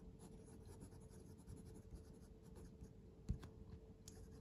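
A Diplomat Excellence A2 fountain pen with a steel medium nib scratches faintly across paper in soft continuous strokes, very quiet and close, with an occasional tap and no voices.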